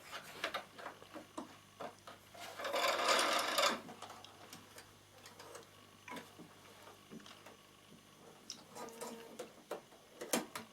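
A Bernina sewing machine stitches piping in one short, fast whirring burst. Before and after it come soft mechanical clicks and ticks, all fairly quiet and without talk.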